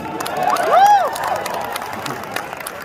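Audience at Puerto Rico Comic Con 2022 erupts in loud cheering and whoops during an evening with Kevin Smith, a burst of crowd noise with one rising shout that peaks early and settles into lingering chatter and applause.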